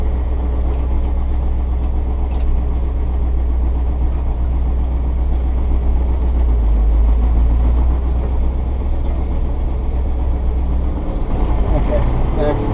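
A 1979 Ford F-150 with a 351M V8 and four-speed manual, crawling in four low, produces a loud, steady low engine drone from inside the cab, with someone talking over it.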